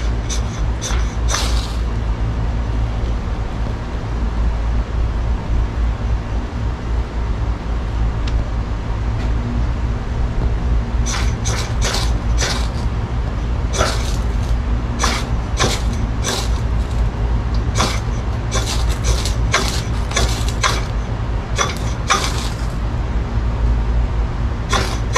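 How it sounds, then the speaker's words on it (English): A ferro rod is struck against the spine of a knife to light a bird's nest tinder bundle, making sharp scraping strikes, a quick few at first and then repeated clusters, over a steady low rumbling background. "I'm going to use this ferrous seam rod and the spine of this knife to light this."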